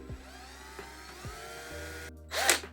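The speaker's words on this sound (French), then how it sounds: "avec ma perceuse, je fais un petit trou" Small electric drill boring a small hole while building a homemade 6 to 7.5 volt battery: a steady motor whine with brief grinding bites, then a louder burst of drilling near the end, no talk.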